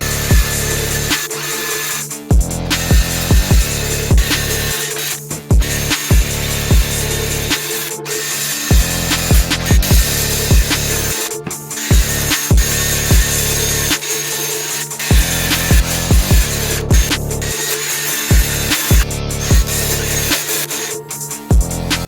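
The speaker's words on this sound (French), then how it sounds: "je galère à poncer l'étrier" A loud power tool sands a car brake caliper in repeated bursts of a few seconds each, with short pauses between them, close up and without talk.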